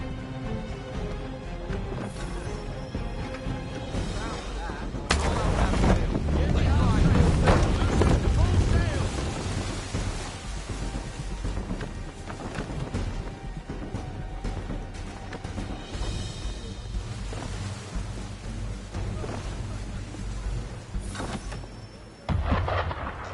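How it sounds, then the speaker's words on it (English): Booming cannon or gunfire aimed at a ship in Assassin's Creed 3, heavy low blasts rolling under voiced dialogue, with a loud swell early on and another sharp boom near the end. "Why is he shooting at us?"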